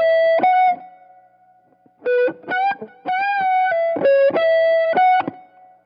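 Clean-toned electric guitar plays a short lead phrase from a solo, with bright sustained single notes and quick slides in clustered bursts separated by brief pauses, close and alone.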